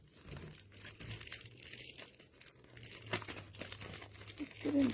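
Plastic packaging and packing tape around a YOREPEK car seat travel bag are pulled open, giving close crinkling and sharp tearing bursts in an irregular rhythm that grow louder toward the end, with a faint low hum beneath.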